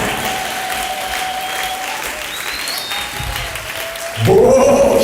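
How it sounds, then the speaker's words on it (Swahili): A church congregation applauds steadily throughout, the clapping swelling louder near the end, with a sustained musical tone beneath it. "Kama unaamini ungeongeza hayo makofi kwa ajili ya Yesu aliye hai"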